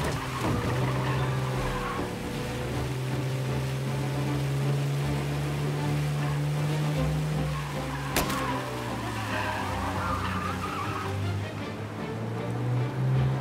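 A car with bad handling drives on a flooded road in the video game Mafia Definitive Edition, its engine droning and shifting pitch steadily up close, with a brief sharp knock partway through.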